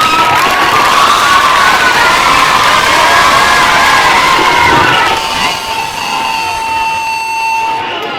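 A school annual function audience bursts into loud, sustained cheering and applause, with children shouting and whooping throughout, the roar easing slightly toward the end while a tonal buzz lingers.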